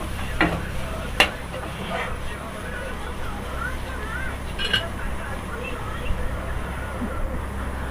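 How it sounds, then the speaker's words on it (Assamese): Spice paste stirred into melted butter in a pan for butter chicken, a soft continuous scraping and gentle sizzle with a few sharp clicks of the spoon against the pan, close and steady. "পেষ্টখিনি দিয়াৰ পিছত ভালদৰে লৰাই লৈছোঁ। ভালদৰে মিক্স কৰি ল'ব বাটাৰখিনিৰ লগত।"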